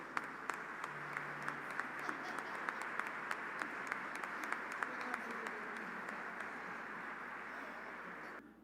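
Congregation applauding during a church service, steady sustained clapping from a large crowd filling the room, with a faint voice underneath.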